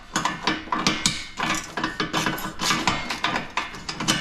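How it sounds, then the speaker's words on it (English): Hand ratchet with a 13mm socket backing out bumper bolts on a Polaris Sportsman 1000 ATV, a rapid run of close, loud clicking and metallic clatter with short pauses in between. "Now we're gonna switch over to the 13mm so we can remove this bumper, and it's attached with 4 bolts."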